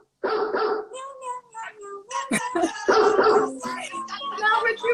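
A dog barks and yips in short bursts outside while people talk close by.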